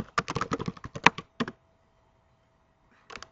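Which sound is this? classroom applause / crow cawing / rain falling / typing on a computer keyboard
typing on a computer keyboard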